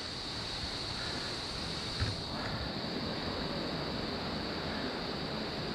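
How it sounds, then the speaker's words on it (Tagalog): Constant rushing water from a river near Sprite Falls in Majayjay, Laguna, a dense, even wash with a faint high steady tone above it and one small bump midway. "Yung pagaspas ng ano, ng tubig galing sa ilog."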